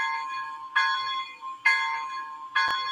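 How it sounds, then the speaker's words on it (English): A model locomotive bell rings three times at an even, unhurried pace, each strike bright and metallic, fairly close and ringing out before the next. "I love the bell on here too"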